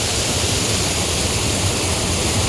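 Beas river water rushes past a riverside spot in the mountains, a dense, steady, loud roar of flowing current that continues unbroken throughout with no other sounds.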